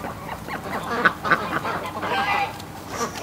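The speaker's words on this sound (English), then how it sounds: "Oh, poor duck." A hen duck with a bad limp gives a run of loud, close quacks in short bursts, with a soft voice faintly present at times.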